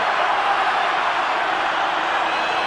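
Stadium crowd roaring steadily at a 2003 Argentina versus Namibia rugby union test match, a loud, dense wash of massed voices that holds level throughout.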